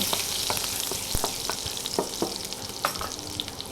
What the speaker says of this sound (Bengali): কড়াইতে পরিমাণ মতন একটু তেল দিয়ে তার মধ্যে আদা রসুন কুচি দিয়ে একটু এক দু মিনিটের মতন নেড়ে নেব